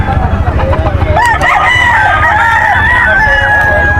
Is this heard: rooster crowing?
yes